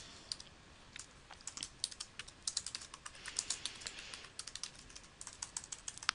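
Fingers typing on a computer keyboard, a quiet close run of light irregular key clicks in short bursts with brief pauses between words.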